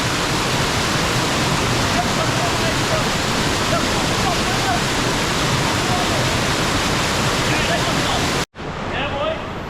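A waterfall on Greiggs Mountain in St. Vincent roars as a steady, dense rush of falling water, loud and continuous throughout before cutting off abruptly near the end.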